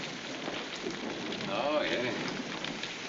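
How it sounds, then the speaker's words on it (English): Steady rain from a thunderstorm hisses evenly throughout, in a 1944 film-noir drama, with a man's brief exclamations heard over the downpour. "Looks like a storm's coming up."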